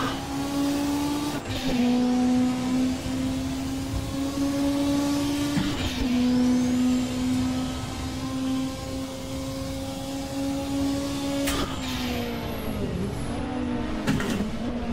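A Zakspeed Ford race car screams along a track, its high engine note holding steady and rising through gears with brief lifts and shifts, loud and close throughout with no voices.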